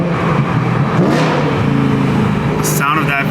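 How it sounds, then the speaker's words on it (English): A BMW E92 V8 on a cold start, its engine droning loud and close with rising revving tones, with a voice speaking over it. "The sound of that V8 is insane."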